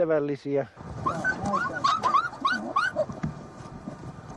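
Sled huskies in the snows of Finland give close, excited yelps and whimpers, starting with a drawn-out whine before a run of short, high cries.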